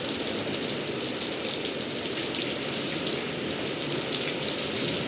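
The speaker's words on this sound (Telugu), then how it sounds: "వర్షం చూడండి ఎలా వస్తుందో." Steady rain falls in front of a house, a dense continuous hiss of drops on surfaces and pots that holds at an even, fairly loud level throughout, with no voices.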